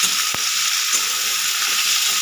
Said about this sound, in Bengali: দিয়ে আমি ভিন্ডিটা ভালো করে ভাজবো